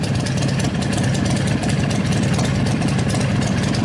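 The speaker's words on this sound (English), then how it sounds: "Wait till this motorcycle pass" A motorcycle engine passing by outside, heard as a loud, steady, droning roar that fills the whole stretch with no talking.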